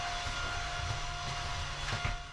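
A stationary long-distance European train gives off a steady, jet-engine-like drone with a constant high whine, holding at an even level with a slight swell near the end and no talking.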